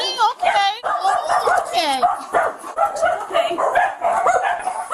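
Dogs at an animal rescue where all the dogs have disabilities, barking, yipping and whimpering in close, loud bursts throughout, mixed with people talking.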